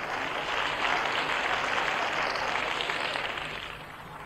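Steady applause from a theatre audience welcoming a performer to the stage at a live 1989 comedy duo show, a dense clatter of clapping that holds for several seconds before thinning slightly, with no talk over it.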